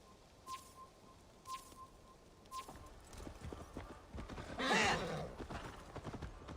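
A horse in Assassin's Creed Valhalla clip-clops steadily at close range, then lets out a loud, wavering whinny midway, with faint birdsong in the background.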